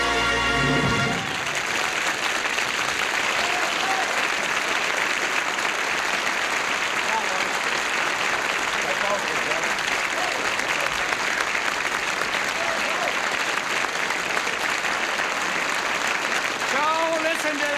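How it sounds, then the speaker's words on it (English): A studio audience at a 1978 Lawrence Welk Show broadcast applauds in dense, sustained clapping that stays loud and even for the whole stretch, with a little music fading out at the start. "listen to that applause"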